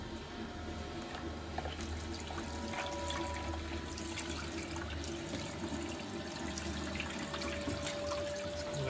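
Rinse water is poured back into a limescale-clogged Bosch WFP3300 washing machine, a steady, close splashing and trickling flow that runs continuously without pause.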